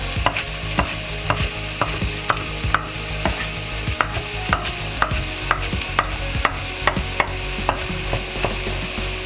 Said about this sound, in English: Now we're gonna add the artichoke and the banana pepper to the saute onion and garlic right here.